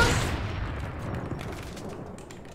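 Gunfire in a video game sniper match: a sharp, loud shot opens the moment and trails off into a fading rumbling echo, fairly faint overall.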